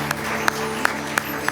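A church congregation at a morning service claps in unison, five crisp, evenly spaced claps over a soft, steady background.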